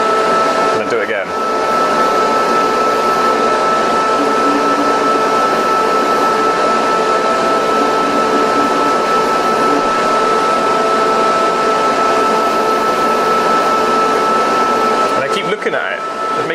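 A polishing machine spins steadily as a ring is worked against Tripoli compound, a constant loud whirring motor hum with brief scraping touches near the start and end, and a voice talks over it.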